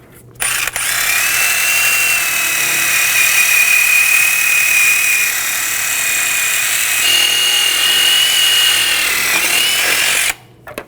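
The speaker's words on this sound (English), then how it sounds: "I'm going to use a wire brush and clean up some of the rust and corrosion on the hub surface." A power-driven wire brush scrubs rust and corrosion off the brake hub surface of a 2001-2009 Volvo S60, a loud steady high-pitched whine running about ten seconds before cutting off, with no talking.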